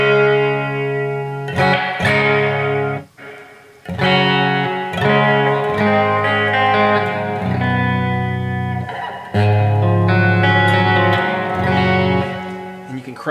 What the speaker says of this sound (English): So this offers traditional plate style reverbs.